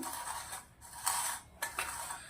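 A raw mango and chana dal salad is tossed in a bowl, making a few quiet, close bursts of scraping and rubbing from a spoon moving through the mixture, with short gaps between strokes and no voices.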